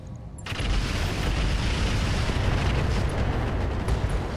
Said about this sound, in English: We did have an explosion there.